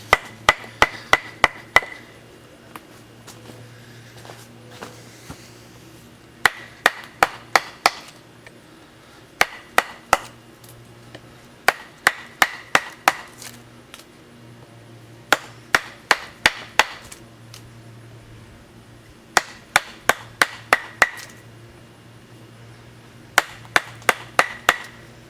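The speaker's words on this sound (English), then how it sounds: "I much prefer hitting with a mallet to swinging the tool" Wooden mallet striking a bowl adze while carving a small wooden bowl, crisp close knocks in quick bursts of four to six blows separated by short pauses, repeated throughout with no talk.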